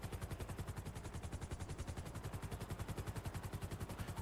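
Rapid rhythmic gunfire rattles continuously in a video game as a helicopter carrying several people is attacked, the bursts evenly spaced and fairly faint.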